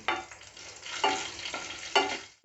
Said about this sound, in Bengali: এখানে লবঙ্গ আর দারচিনি এটা আমি ফোড়ন হিসেবে অ্যাড করে দিলাম